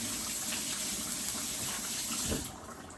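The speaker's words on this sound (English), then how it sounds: "I'm going to rinse my hands off real quick." Tap water running steadily into a sink while hands are rinsed in a home kitchen, a continuous close gushing hiss that eases off near the end.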